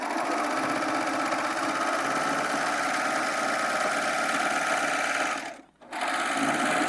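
A serger sewing machine runs continuously at a steady, close hum while trimming fabric, stopping briefly near the end before starting up again.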